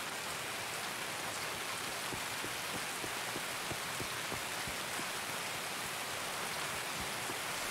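Steady, dense rain in the video game Escape from Tarkov, a constant hiss across the whole stretch with faint scattered ticks of drops and no talking.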